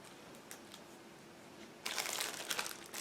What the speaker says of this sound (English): Car's body is packed into the separate plastic bag. Just give me a second to open it.